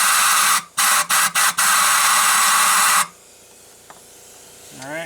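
Air blower nozzle clearing debris from repaired spark plug threads in an engine head, a loud close hiss broken by several quick on-off bursts, then a steady blast that stops abruptly, leaving faint room noise.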